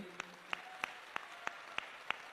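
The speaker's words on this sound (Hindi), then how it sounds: "जोरदार ताली बजा करके" At a religious discourse gathering, the audience claps together in a slow, even rhythm, about seven distinct beats in unison, fairly soft and without talk over it.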